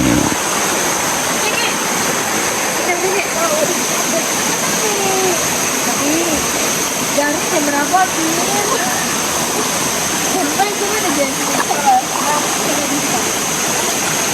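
Steady rushing water of a rocky mountain river fills the scene, a constant broad wash with scattered splashes from people bathing and faint voices in the background.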